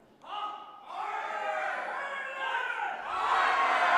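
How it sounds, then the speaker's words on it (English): A bloodthirsty wrestling crowd in Kitchener chants and shouts in rhythmic unison, swelling louder toward the end, with a commentator talking over it. "the crowd chanting harder"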